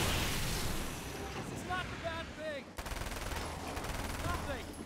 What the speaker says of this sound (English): we're gonna switch over to the SMG just because we're incredibly low